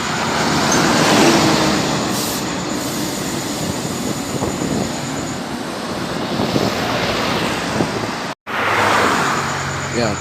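A Makmur bus rolls past in roadside traffic, a loud, continuous rumble and rush of passing vehicles heard up close, with a brief dropout near the end.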